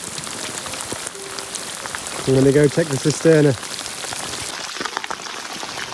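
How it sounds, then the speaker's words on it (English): Rain falls on a road outside an old house under renovation, a steady soft patter throughout, briefly interrupted by a person speaking in the middle. "So finally, we've got a little bit of rain."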